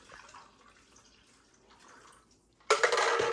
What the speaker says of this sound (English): now use the water to rinse that out